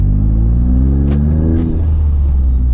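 2023 Toyota GR Corolla driving in winter snow with its exhaust valves open, a steady loud engine drone and rumble as it revs, heard up close with no talk.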